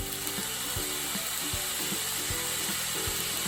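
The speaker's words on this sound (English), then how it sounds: "I'm going to add my soya sauce to it" Soy sauce poured into chicken fried rice in a hot pan, a steady sizzle and hiss with regular rhythmic scraping or tapping beats from stirring, close and moderate in level, no talk.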